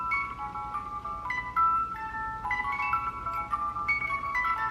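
Small hand-crank music box plinking a bright, delicate tune at a steady pace, heard close but fairly quiet over faint room hiss.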